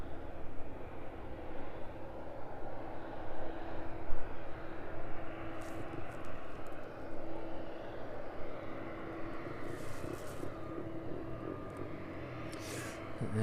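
A Boeing 767 sits at an airport stand before pushback and puts out a steady, broad engine and ground-power rumble, with a few faint higher clanks and hisses further off.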